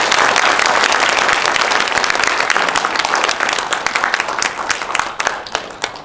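Rally audience applauding loudly and steadily, dense clapping that fades slightly toward the end with a few sharper claps standing out.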